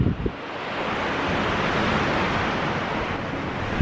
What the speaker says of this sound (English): The wind coming through the tower.